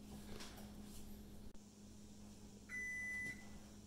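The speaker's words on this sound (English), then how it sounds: "Okay, the timer went off and I need to shut off my oven." A single steady electronic oven timer beep sounds briefly over a faint appliance hum in a quiet room.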